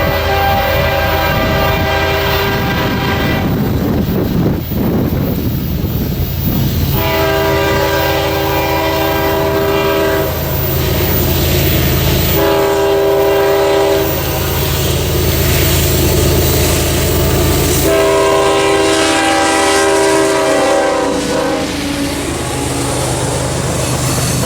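A southbound CSX freight train passes at close range near Pine Log, Georgia, its loud air horn sounding in several long blasts over the steady roar and rumble of the locomotive and rolling cars.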